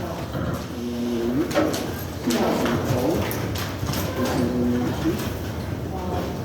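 Hooves clip-clop in short rhythmic bursts against a steady background rumble, with a few faint tonal squeals between steps.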